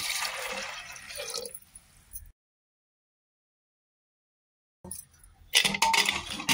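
Water splashes and trickles into a pot of cut potatoes and salt in two bursts, with a silent gap between them.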